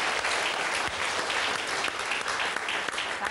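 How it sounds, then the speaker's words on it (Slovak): Dense audience applause in a quiz setting, loud, even clapping sustained throughout with no gaps. "Jednotku a potlesk, samozrejme, patričný."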